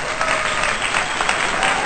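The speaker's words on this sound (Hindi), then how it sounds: "प्रस्तुति के लिए एक बार जोरदार तालियां" An audience applauds loudly and continuously after women perform at a Holi festival gathering in Almora, the dense clapping steady throughout with no pause.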